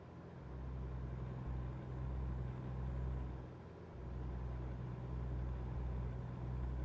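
Low, steady engine rumble of a truck while driving, smooth and continuous with slight swells and dips, no voices over it.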